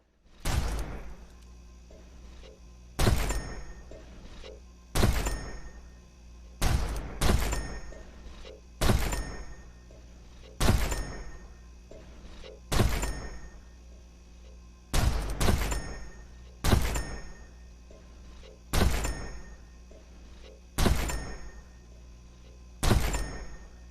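A handgun fires at shooting range targets in the sci-fi game Unfortunate Spacemen, about fifteen sharp shots spaced irregularly, some in quick pairs, each loud and close with a short decay.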